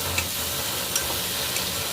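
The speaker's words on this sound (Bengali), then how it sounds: "এ দেখুন ডালটা ভেজে নিচ্ছি" Lentil dal paste frying in a pan, a soft steady sizzle with a few faint clicks of stirring, brief and fairly quiet.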